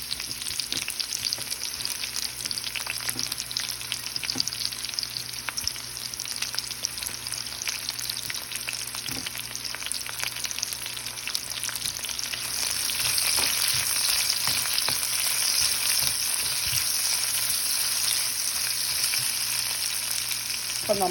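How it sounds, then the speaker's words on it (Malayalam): Chopped onions fry in hot oil with curry leaves, giving a steady, dense sizzle that crackles without pause and grows slightly louder and brighter partway through, with no voices over it. "അരിഞ്ഞ് വെച്ചേക്കുന്ന ഉള്ളി ഇട്ട് കൊടുക്കാവേ"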